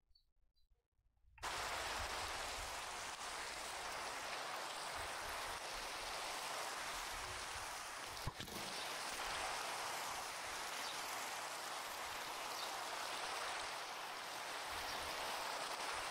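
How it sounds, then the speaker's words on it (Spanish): Rain in modded Minecraft, on the New Game 2 mod pack, begins after a short silent moment and continues as an even, steady hiss throughout. "Es la puta lluvia, tío."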